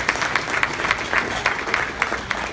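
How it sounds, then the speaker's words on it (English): An audience at a luncheon in New York City bursts into warm applause, a dense, steady clapping crowd sustained for the whole moment. "Could you give those two a round of applause?"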